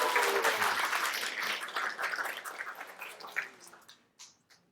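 Studio audience applause during a televised lecture, a dense wash of clapping that starts loud and gradually thins and fades over several seconds, with a few scattered claps at the end.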